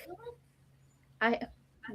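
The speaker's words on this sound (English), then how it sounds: "My cat is over here on this desk looking at me" A cat on a desk gives a short, clear meow, close and moderately loud, amid quiet room hum with brief bits of sound around it.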